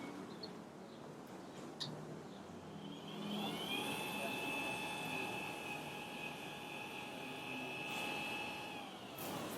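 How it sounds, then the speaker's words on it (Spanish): SkyVision T400C Dobson telescope on a go-to mount, its altitude and azimuth motors running as a steady, smooth whine with faint tonal hum, fairly quiet and continuous throughout. "el ruido de los motores es bastante discreto."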